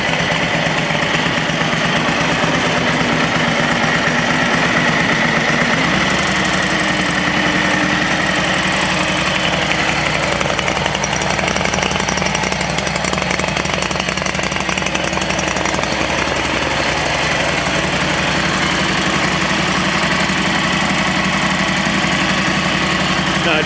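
An engine idles on a spring startup with the choke on, a loud, close, steady running drone with a rough vibrating texture that continues throughout.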